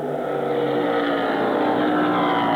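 Late model race cars roar around Lancaster Speedway in a heat, a dense continuous engine drone that holds steady and slightly rises, loud and without a break.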